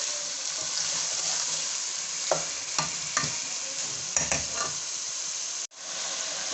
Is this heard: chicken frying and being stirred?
yes